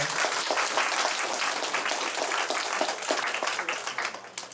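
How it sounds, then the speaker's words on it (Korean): Audience applause at a school debate contest, with dense, steady clapping from a crowd that carries on for several seconds and tapers slightly at the end. "큰 박수 부탁드릴게요"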